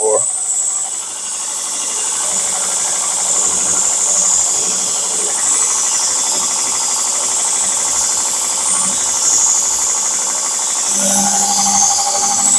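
A Grizzly 2x42 variable-speed belt grinder fitted with a Swanson radius platen runs continuously against a kurouchi-finished blade, giving a loud, steady hissing whir throughout.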